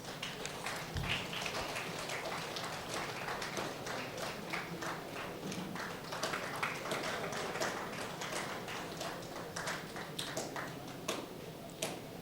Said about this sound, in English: So let's appreciate this remarkable achievement with a big round of applause